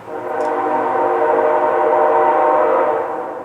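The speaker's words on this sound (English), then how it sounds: "Got a train going to Canada in the background back here." A train bound for Canada rumbles past in the distance, a steady, loud mechanical roar with tonal hum that swells slightly and holds for several seconds, with no talking.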